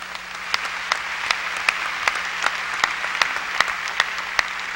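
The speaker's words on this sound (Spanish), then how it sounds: "Vamos a darle un aplauso bien fuerte al Señor" A church congregation claps together for the Lord, forming a steady sustained ovation with sharp individual claps popping out above the wash, loud and close.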